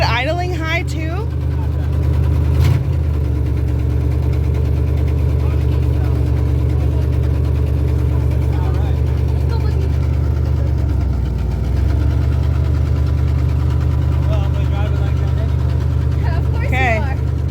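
A 1972 Ford engine with burnt spark plugs idles with a steady low rumble throughout, close and loud, with faint voices talking over it.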